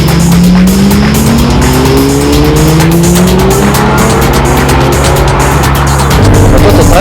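A 580 horsepower Lamborghini Murcielago race car screams along at full throttle, its engine note climbing loud and close through the gears. Tire noise runs beneath the engine without a break.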